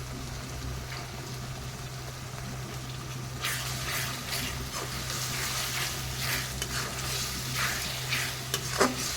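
Cumin paste fries in hot oil, a steady close sizzle that grows busier partway through as it is stirred, with scraping strokes across the pan.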